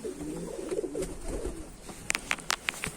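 Mardin pigeons on a windy rooftop coo in low, soft rolling notes, then a run of sharp, close clicks and flutters follows in quick succession.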